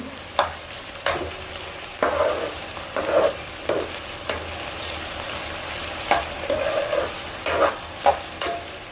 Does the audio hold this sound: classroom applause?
no